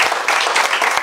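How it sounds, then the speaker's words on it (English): Wedding guests applaud at a reception, a dense burst of clapping from a crowd, close and loud, lasting about a second. "I think a round of applause for Emma for what she's done"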